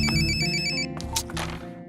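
A mobile phone ringtone plays a bright repeating electronic melody for about a second, then breaks off into a few scattered tones and clicks. The setting is a scene in a Telugu action film dubbed into Hindi.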